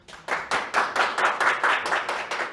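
Studio audience at a talk show gives a round of applause, starting sparse and quickly building into rhythmic, fairly close clapping with distinct individual hand claps standing out, no talking over it.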